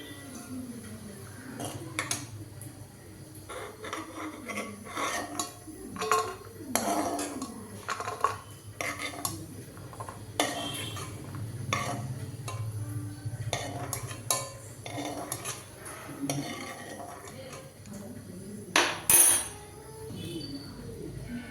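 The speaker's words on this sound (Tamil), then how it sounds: "திராட்சை இதிலே போட்டு பொரிச்சு எடுத்துக்கிறேன் நெய்யிலேயே" Raisins fry in ghee in a pan for laddu while a spoon stirs them, giving quiet, uneven scrapes and metallic clinks against the pan over a soft background.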